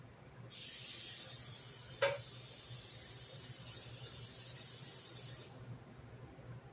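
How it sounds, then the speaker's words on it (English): A close, steady hiss of cooking spray onto an 8x8 baking pan lasting about five seconds, with a faint click partway through and a quiet background hum. "that I'm going to spray with some Pam."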